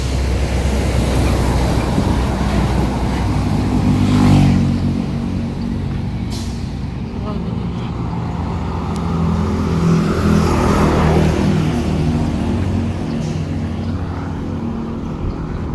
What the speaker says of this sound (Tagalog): yung mga sasakyan kapag umaga ang bilis